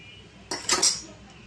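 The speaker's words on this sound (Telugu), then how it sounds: "మూత పెట్టేసుకుందాం" A metal lid set onto an onion curry pot makes a brief clatter with a couple of bright metallic clinks, close and short, with no talking.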